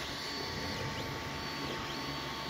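A 3D printer building a model hums and whirs steadily up close, its stepper motors giving faint sweeping tones under a constant mechanical drone, with no talk.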